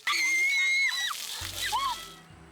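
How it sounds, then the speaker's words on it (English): People scream and giggle at a riverfront park, with high, excited shrieks near the start, then splashing water and fainter laughter and voices. "At Albany's Riverfront Park, there's no shortage of screams and giggles."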